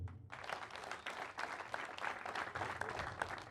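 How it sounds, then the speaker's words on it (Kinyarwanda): An audience at a local community celebration applauds, a soft, steady patter of many hands heard from a distance that holds for several seconds. "Munize amashyi tubashimire cyane"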